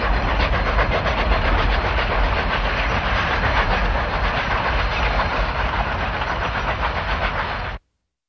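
A Cumbres & Toltec Scenic Railroad passenger train rumbles steadily along the rails, a loud, continuous roar with rhythmic clatter that holds for several seconds, then cuts off abruptly.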